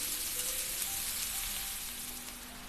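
Grated radish stir-frying in a hot wok for Hong Kong–style turnip cake, a steady close hiss and crackle of sizzling that runs evenly throughout without any talk.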